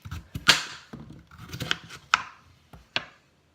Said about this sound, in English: I prefer chopping the carrots